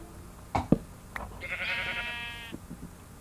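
A sheep in a video game gives a single short, buzzy bleat between soft clicks and taps, fairly faint and close.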